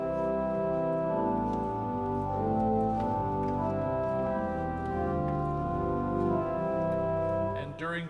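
Pipe organ on a soft preset registration in a church console setting, sustained chords with many steady harmonic lines moving gently from chord to chord, fairly quiet and even throughout, no one talking over it.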